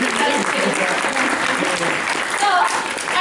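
Audience clapping, a dense burst of applause filling the whole short stretch, close and steady with some voices mixed in.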